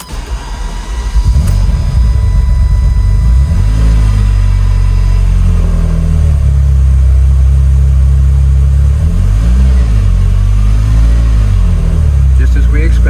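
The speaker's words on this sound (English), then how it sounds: "we'll do a cold start here" A 1988 Ferrari 328 GTS with 16,000 miles cold-starts with a quick crank and catch, then idles loudly and close by, with a couple of brief revs rising and falling.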